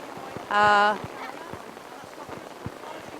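Heavy rain falls on a hockey pitch during a live match, a steady patter of drops with scattered louder splashes and a short tonal burst near the start.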